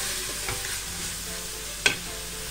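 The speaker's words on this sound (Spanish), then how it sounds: "La cebolla vamos a sofreír hasta que esté un tanto transparente o blandita." Chopped onion and garlic sizzle steadily in a hot pan while a utensil stirs and scrapes now and then, with one louder clack near the end, close up and without talk.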